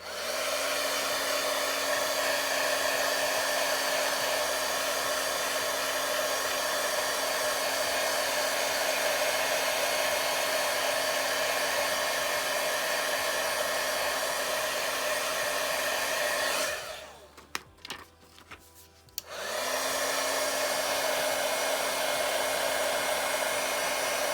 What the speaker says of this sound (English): when I do the embossing, I'm going to be moving my heat gun around